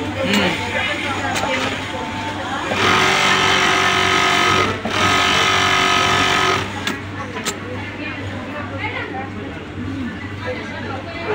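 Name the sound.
sewing machine topstitching a garment cup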